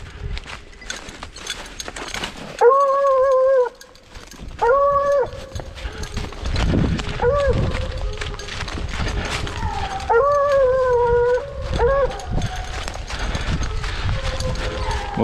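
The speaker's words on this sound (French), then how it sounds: "les chiens, ils ont bien dans le nez, il y a plusieurs sangliers" Pack of hunting dogs baying on the scent of wild boar in the Bergerac woods, drawn-out howls rising in repeated bursts over rustling undergrowth, some near and loud, others further off.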